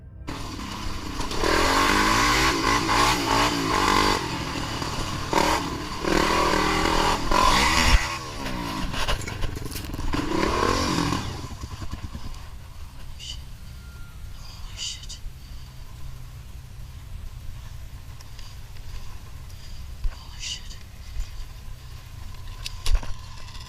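An ATV engine drones and revs while riding along a wooded trail, fairly loud for the first half and then fading to a faint background. A voice narrates over it.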